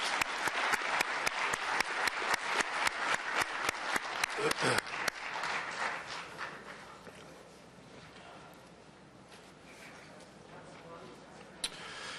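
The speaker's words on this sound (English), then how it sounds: "I think they deserve another round of applause." A crowd applauds a choir at an Ottawa City Council meeting, with dense, brisk clapping for several seconds that then thins and fades into quieter room murmur.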